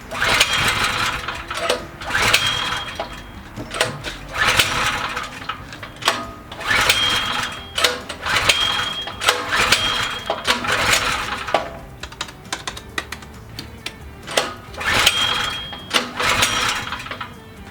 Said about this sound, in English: Well, the good news is it's running fine.